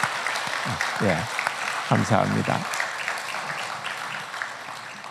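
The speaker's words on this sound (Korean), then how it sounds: "우리 박수로 한번 격려해 주시기 바랍니다" A Korean Sunday church congregation claps in soft, continuous applause as someone speaks over it, his voice much louder than the clapping in the background.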